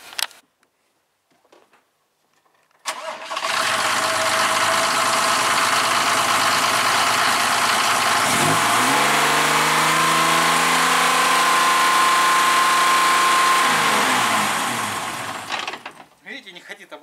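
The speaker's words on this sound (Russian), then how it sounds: "И сейчас запустим мотор." A Mercedes 208 van's OM603 diesel engine cranks and starts after a few quiet clicks, then idles loudly and steadily with a faint change in pitch partway through before cutting off.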